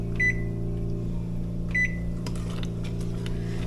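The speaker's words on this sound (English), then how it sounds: "I'm going to set this timer for 5 minutes." Two short electronic beeps about a second and a half apart as a kitchen timer is set for 5 minutes, over a steady appliance hum, followed by faint clicks.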